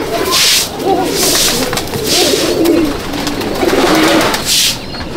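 Pigeons coo repeatedly inside a Chennai Madrasi pigeon loft, several birds calling in overlapping low rolling phrases close by, with soft rustling between calls.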